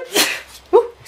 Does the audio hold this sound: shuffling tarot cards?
no